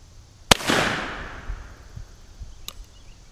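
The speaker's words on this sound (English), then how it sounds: "Who doesn't love explosions?" A backyard mailbox blows apart in one sharp, loud bang followed by a fading rumble, then a second fainter crack a couple of seconds later in a quiet outdoor setting.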